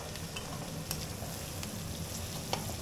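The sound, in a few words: cooked basmati rice and beans frying in a pan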